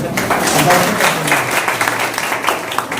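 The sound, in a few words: audience clapping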